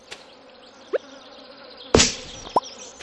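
Bees in the Stardew Valley video game, heard as a few short buzzing bursts, including one louder, fuller burst near the middle, over a faint, steady game background.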